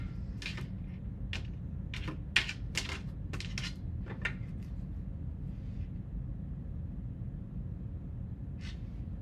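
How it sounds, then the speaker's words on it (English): Tarot cards get a last shuffle, a quiet run of crisp, quick clicks and riffles packed into the first few seconds, then mostly soft background with one more faint flick near the end. "Okay, last shuffle."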